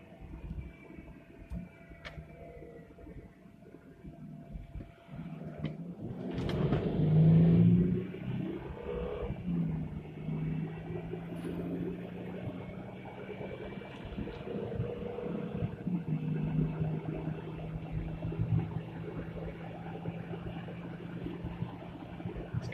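Steady low road rumble inside a 2008.5 Jeep Grand Cherokee WK driving on winter tires, with driveline noise, a continuous hum and drone that swells briefly after a few seconds, no talking.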